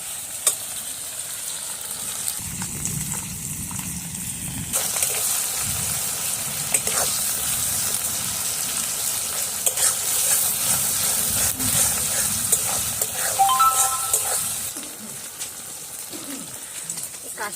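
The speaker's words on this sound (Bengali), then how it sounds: "পুরো লাল লাল ভাবে ভেজে নিতে হবে" Bombay duck (lote) fish frying in oil, a dense continuous sizzle and hiss that swells louder midway and drops back near the end, close by, with a few brief utensil sounds.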